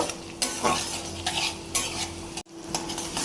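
Onion and garlic frying in a pan, with a steady sizzle under stirring scrapes and a few clinks of a utensil, close by; a brief silent gap near the end.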